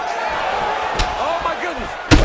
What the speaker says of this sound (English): A massive uppercut lands.